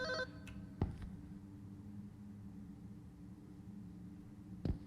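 A phone rings in the video game Unspoken, a faint electronic telephone tone at the start followed by sharp clicks and a quiet hum, with no speech.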